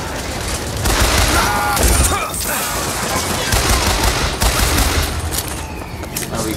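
Sustained automatic gunfire from a newly acquired weapon in the first-person shooter Bioshock Infinite, a loud dense rattling burst running the full length with booming impacts and game noise beneath.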